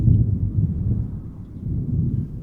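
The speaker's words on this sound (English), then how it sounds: "on the horizon, the sky is torn by the lightning of a violent storm" Thunder from a violent lightning storm on the horizon above a deserted park. The sound is a deep, continuous low rumble, moderately loud and distant, rolling unevenly for a couple of seconds with no voices.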